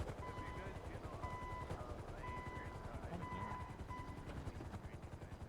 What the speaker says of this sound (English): Why is there a helicopter in front of us?